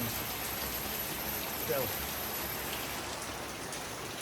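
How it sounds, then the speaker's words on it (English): Heavy rain pours onto a canopy as a dense, constant hiss of drumming drops, close and even throughout. A brief spoken word sits under it. "It's raining quite hard today as well, and we're really putting the canopy under quite a lot of test pressure."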